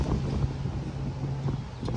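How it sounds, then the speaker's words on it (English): Strong wind buffets the microphone at a marina aboard a boat, a constant dense rumble and roar with no pauses. "it's a very windy day"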